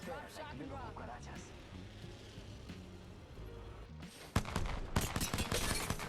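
Gunfire from weapons in the video game Apex Legends, a dense burst of sharp shots in the last two seconds after a stretch of game sound and music.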